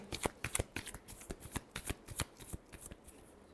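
Tarot cards shuffled by hand in a quick run of crisp riffling flicks and slaps, close and fairly quiet, with no talk.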